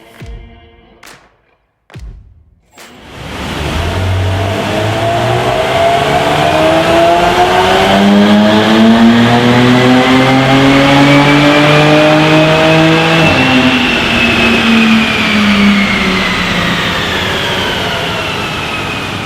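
A Jaguar F-Type V6 strapped to a dyno revs hard after a few short blips, its engine note climbing steadily through the gears for a long, loud, sustained pull before easing off.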